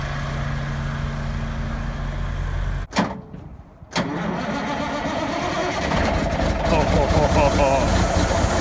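A generator set mounted on a truck cranks and starts, rumbling steadily before a brief cutout, then catching and settling into a loud, close, mid-pitched idle.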